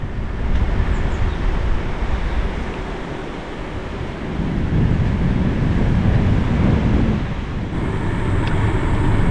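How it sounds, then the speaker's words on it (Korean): Rushing river water at Hapgang Park in Sejong, a broad steady roar mixed with wind buffeting the microphone, with no talking. "물소리가 시원합니다."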